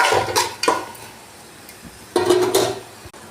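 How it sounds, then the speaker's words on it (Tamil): Sautéed tomato gravy with onion and masala is stirred in a pan for chicken gravy, with a few scraping strokes of a spoon against the metal, soft sizzling in the gaps between them. "தக்காளி நல்லா வதங்கி கிரேவி மாதிரி ஆகணும்"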